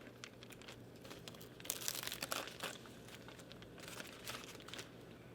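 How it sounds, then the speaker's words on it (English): Autoclave tape peels off a sterile dressing pack, giving quiet, close crinkling and tearing rustles. The sound clusters in a brief burst midway, with softer crackles before and after. "First, we need to remove the autoclave tape."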